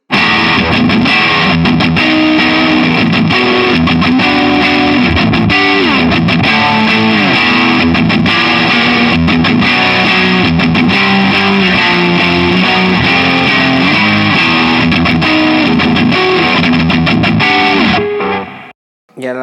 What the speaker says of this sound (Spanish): en la pastilla de mástil le metes zurra y la guitarra suena súper cabreada